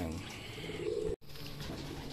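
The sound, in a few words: racing pigeons cooing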